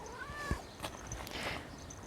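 A domestic cat meows close by in a spring garden in Australia: a short, drawn-out call heard alone over soft outdoor ambience.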